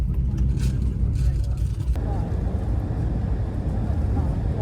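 Steady low engine rumble and road noise inside a moving bus on an airport transfer near Gibraltar, a continuous droning hum with a faint brief voice early on.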